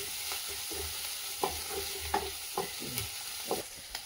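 Potatoes for a bhaji fry in a pan with a close, continuous sizzle and scattered scrapes of a spoon stirring them, no voices.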